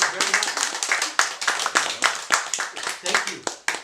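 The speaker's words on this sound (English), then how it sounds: "So, Mike Jansen, give him a round of applause." Audience applause for science fiction author Mike Jansen at an award event, a dense, close burst of many hands clapping steadily throughout, with a voice talking over part of it.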